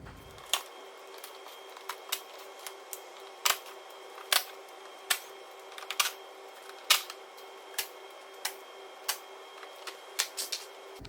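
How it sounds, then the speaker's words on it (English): Torx screws being undone from the plastic under tray of a 2016 Ford Focus ST 2.0 diesel, a string of sharp, quiet clicks and ratchet ticks at uneven intervals over near silence. "So you're just going to undo all them Torxes, get the belly pan drop down and out of the way"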